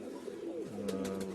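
A pigeon in a loft gives a short, low, rolling coo, close and fairly quiet, with a couple of soft clicks or wing sounds near the end.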